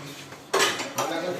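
Cutlery and dishes clatter as plates of rice, fried potatoes, mixed vegetables and chicken are set out for serving, a short burst of scraping and clinking near the microphone.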